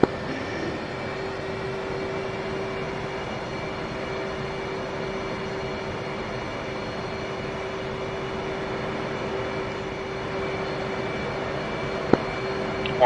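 Jet engines of a DCS flight simulator aircraft spool up to 80 percent, a steady droning roar with a sustained whine, continuous and even throughout, ending with a faint click.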